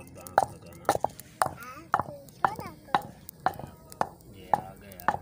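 Roasted potatoes pounded by hand, about ten steady dull thuds at an even rhythm, close and fairly loud with faint background noise between strikes.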